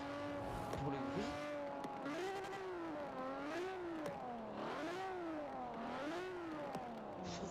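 A Ferrari 250 California engine in the video game Forza Horizon 4 revs steadily, its pitch rising and falling in repeated waves as the car accelerates and eases off. The sound is loud and continuous, with no talking over it.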